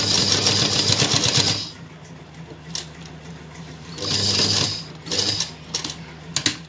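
A sewing machine runs steady straight stitches along a lehenga zip, a close whirring burst followed by a pause, then several shorter stop-start runs.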